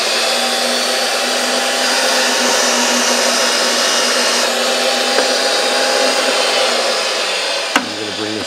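A RIDGID 300 Compact pipe threading machine runs with a loud, steady motor whine and hum, a single sharp clank near the end, no talking.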